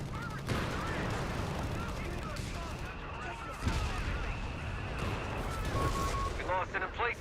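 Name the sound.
Walking Stuka rocket artillery fire, from Company of Heroes video game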